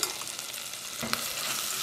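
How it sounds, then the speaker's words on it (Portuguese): Sausage tossed into a hot triple-bottom pan already frying bacon, a dense steady sizzle with a brief stir and clatter midway, close and fairly loud, with no talk. "Agora vai a linguiça."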